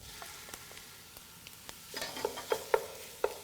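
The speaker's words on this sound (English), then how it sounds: "I'm going to add my ground pork right now." Ground pork dropped into a soup pot with onions, sausage and white bean soup in progress: faint background sizzle rising after a moment, with a few light clinks and scraping stir sounds toward the end.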